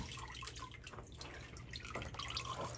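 Water drains out of moistened HP Pro Mix or Sunshine Mix potting soil, making close, irregular dripping and trickling sounds over a quiet background.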